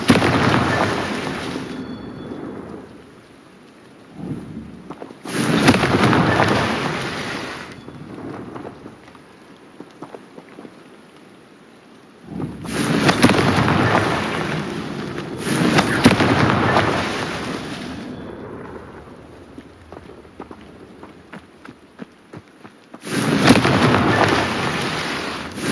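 Confringo blasting spells explode in Hogwarts Legacy, heard as a series of loud, broad crackling bursts like fireworks, each rolling on for a few seconds and separated by quieter gaps, with rumbling tails between them.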